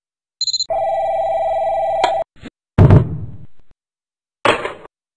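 A telephone in the JoeCartoon game The Boss rings loudly with a sustained electronic bell tone, followed by sharp clunking knocks and another short burst of sound, with no talking.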